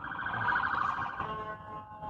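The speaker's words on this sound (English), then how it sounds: "Some sirens are going by." Sirens of emergency vehicles passing on a city street, a loud wailing tone that sweeps and holds, then fades as the vehicles move away.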